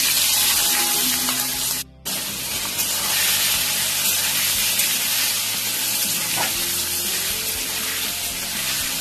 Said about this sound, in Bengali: তেল গরম হয়ে গেছে, 15টা মতো রসুনের কোয়া কুচি করে দিয়ে দিচ্ছি।